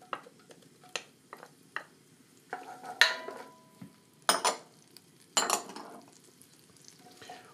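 Garlic cloves softening gently in a pan, heard as a quiet sizzle broken by intermittent stirring and clinks of a utensil against the pan, with short sharp scrapes spaced irregularly and no talk.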